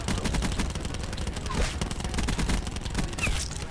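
Rapid automatic gunfire in Call of Duty Black Ops 4, a dense continuous stream of loud close shots rattling steadily for the whole stretch, with only brief faint sounds mixed in.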